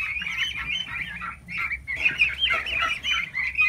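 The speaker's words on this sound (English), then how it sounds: "Talking to these turkeys." A flock of turkeys gabbles and gobbles continuously nearby, overlapping warbling gobbles and honking cries with no pauses.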